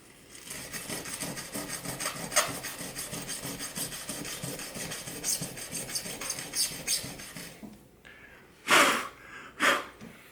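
Abrasive rubbing across a painted, clear-coated tile, a steady close scraping rasp that ends with a couple of louder strokes, and no talk.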